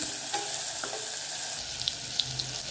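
Tomatoes sizzle and fry steadily in a pan for a peas and cauliflower dish, a close continuous crackle with faint stirring clinks and a few brief water-like spatters, no talk.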